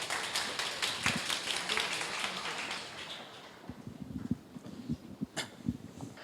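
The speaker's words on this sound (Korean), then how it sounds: "네, 많은 박수 부탁드립니다." Applause from an audience welcoming a speaker at a Korean artist talk: a burst of clapping fades after a few seconds, then scattered individual claps and light tapping sounds continue sparsely.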